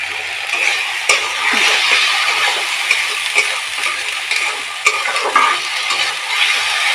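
Spices with tomato puree, salt and turmeric fry in a pan for a papad curry, giving a continuous close sizzle broken by scraping stirs and occasional clinks of the spoon, with no talking.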